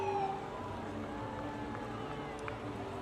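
A 1970 Crown fire coach rolls through a Halloween parade, its horn or siren holding steady layered tones for about three seconds over a busy background of crowd and street noise.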